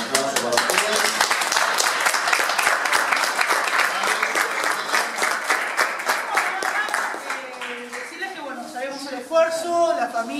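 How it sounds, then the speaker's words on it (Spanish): Applause for students at a school model expo at an industrial secondary school, a dense sustained clapping crowd that thins out near the end as talk and a few voices come through. "un aplauso para ustedes."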